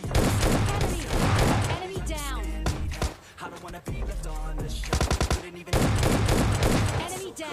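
Gunfire from a gun in the mobile shooter PUBG Lite, loud rapid bursts of automatic shots broken by short pauses, with a dense volley returning at the end.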